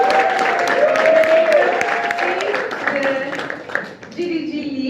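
Another round of audience applause rings out at the Google Sub-Sahara Africa Community Summit in Kigali. The clapping is continuous and lively, layered under voices and a tonal announcement, and tapers off toward the end.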